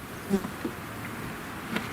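Faint buzzing of honey bees drifting around at a distance during installation of packaged bees, with a few brief louder passes close by against a soft background hum.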